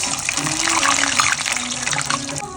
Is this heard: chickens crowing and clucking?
no